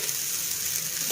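Vermicelli warming in a pan gives a brief, steady frying sizzle, close and fairly loud, with no voices.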